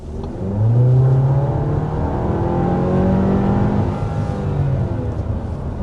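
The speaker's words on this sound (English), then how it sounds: "we're going to go ahead and start with a hard acceleration" A 2025 Audi Q7 SUV under hard acceleration: a loud engine rises in pitch through the gears with a strong revving drone heard from inside, no talk over it.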